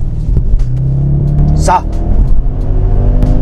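An Audi RS6 C5 estate accelerates hard, its engine note rising and roaring loudly up close while someone speaks briefly over it.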